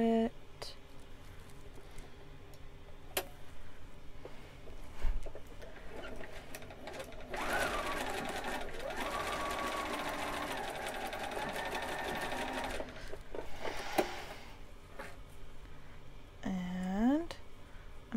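Fabric for a monk robe is run through a sewing machine in a burst of fast, even stitching of about five seconds, with scattered clicks and handling noises before and after and a short whirring run near the end.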